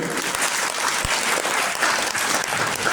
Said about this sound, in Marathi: मला एकदा पटेकर साहेबांचं टाळ्या वाजून स्वागत करा तुम्ही